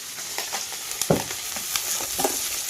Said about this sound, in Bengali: ওহ কি সুন্দর ভাজা হয়েছে।